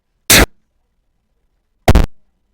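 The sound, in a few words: synthesized explosion sound effect made with BFXR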